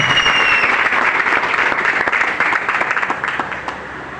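An audience applauding at a health business program in Badayun, a dense burst of clapping that starts loud and gradually thins and fades over about four seconds.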